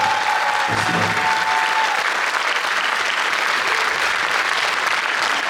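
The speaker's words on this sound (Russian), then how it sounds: "подарим ему аплодисменты" Concert audience applause at a 2024 anniversary solo show, a dense, loud, steady roar of clapping sustained throughout with no speech over it.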